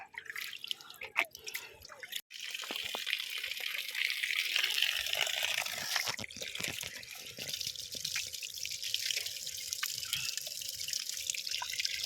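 Water trickling and dripping from a small spring at a farm field, a close, steady splashing flow running throughout with occasional faint voices.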